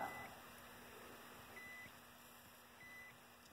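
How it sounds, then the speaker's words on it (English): A multimeter on its continuity setting gives short, thin electronic beeps in a few intermittent bursts against a low steady hum, quiet and close, with no voices. "we're going to switch our meter back to continuity, as Ted calls it, the dummy beeper"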